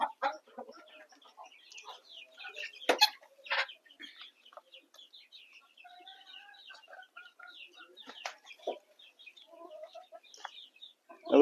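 Village chickens, large hens and small young birds, cluck while feeding: scattered soft clucks and a few sharper calls, fairly quiet and close, with no voices.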